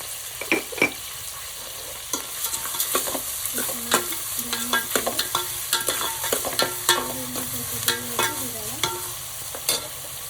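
Onions fry in oil with rock salt for egg biryani, sizzling steadily close by while a utensil scrapes and stirs the pan in repeated sharp strokes.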